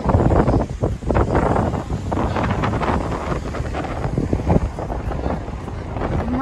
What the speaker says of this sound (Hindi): मस्त हवा चल रही है गाइस।